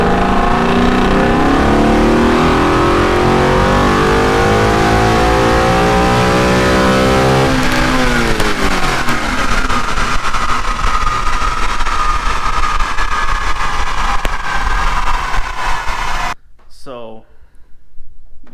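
Car engine revving hard on a dyno while a fuel pump struggles at high RPM, a loud sustained climbing roar with rising pitch that holds near the top, then cuts abruptly to near silence.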